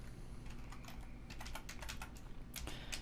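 Steady typing on a computer keyboard, a quick run of close key clicks with brief pauses and no talking.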